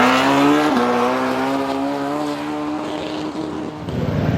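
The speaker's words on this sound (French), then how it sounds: "Non-stop des motos, des motos, des motos, des motos." Motorcycle engines drone steadily along a street in San Andrés, one loud machine passing close with a shifting pitch before fading into more traffic noise.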